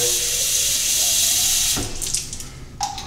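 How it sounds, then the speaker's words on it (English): A small handheld water sprayer lets out a steady, close, hissing spray for under two seconds, then a couple of faint clicks and handling noises follow in a quiet room. "And then I use this little water sprayer."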